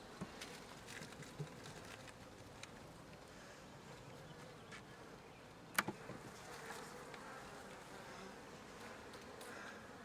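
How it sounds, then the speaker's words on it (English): Honey bees swarm around an open hive body with brood frames, making a soft, steady, continuous buzz throughout, faint and fairly distant, with one brief click partway through. "Plenty of bees."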